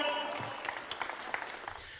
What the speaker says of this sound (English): I love the light smattering of applause